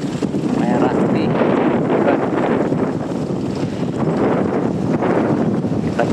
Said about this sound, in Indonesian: betapa kencangnya angin ini